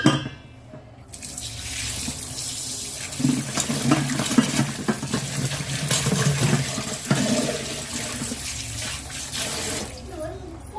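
Tap water runs steadily over goat leg pieces being washed in a sink, a continuous close rushing splash that lasts about nine seconds before easing off, with light clatter of the meat and a container.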